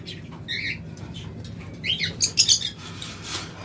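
A pair of pet lovebirds squawks in short, shrill bursts, one early call and then a quick cluster of sharper cries near the end, close and fairly loud over a quiet hum.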